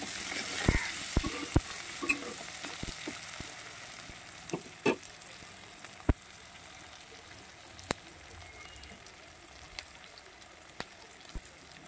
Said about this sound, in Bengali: এবারে পেঁয়াজগুলো লাল লাল না হওয়া পর্যন্ত ভেজে নেব।